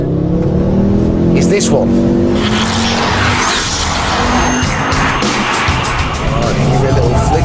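A Ford Focus RS accelerating hard and skidding: a loud, roaring engine surges with squealing tyres and rushing road noise, and someone talks over it.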